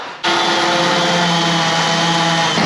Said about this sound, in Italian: Ora foro per sistemare i rubinetti. Col trapano angolare è una volata.